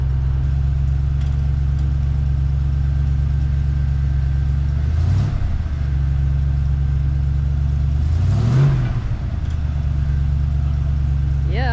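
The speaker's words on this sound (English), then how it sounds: "the truck's down on the ground and running" A truck engine runs on a test drive after months on jack stands, making a steady low mid-pitched drone with two brief revving surges partway through, close and continuous, with no talking over it.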